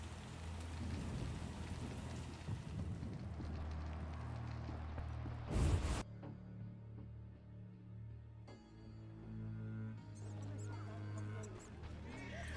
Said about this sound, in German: Und er regnet immer noch